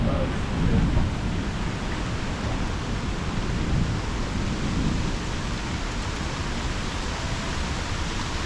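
Heavy rain during rainy season in Thailand, a dense, steady roar with a low rumble of thunder underneath, continuous and close for the whole stretch.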